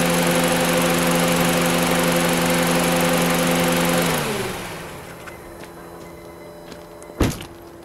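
A Honda car engine idles steadily with a droning hum, then shuts off and winds down to quiet, followed by a single sharp thump.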